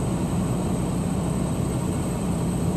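Steady low road rumble and broadband hiss fill the cabin of a moving car, constant and continuous throughout with no voices.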